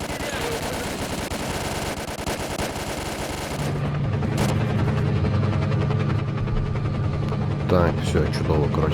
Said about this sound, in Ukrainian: Мерщій до вертушки